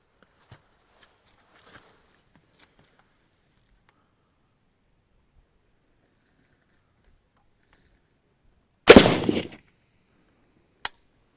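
A gunshot from a 5.45x39 rifle hitting a Hardox 500 armor plate. After near silence there is a single loud, sharp crack with a short rough decay, followed about two seconds later by one brief, sharp click.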